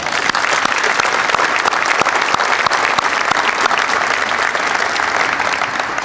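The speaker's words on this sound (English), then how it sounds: "Let's give them a round of applause." Loud, dense applause fills the room at an athletic gala, many hands clapping steadily throughout with sharp individual claps standing out.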